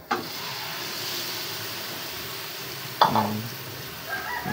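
Half a kilo of chicken for curry fries in a pan, a continuous close hiss of sizzling with a sharp burst and scrape around the middle as the pieces are spread out.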